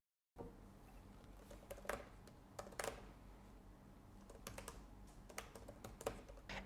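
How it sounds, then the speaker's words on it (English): Rapid, irregular typing on a computer keyboard, like a monkey hitting keys at random: steady soft clicking with sharper key strikes scattered throughout, quiet and close with no voices. "Imagine a monkey hitting keys at random for an infinite amount of time."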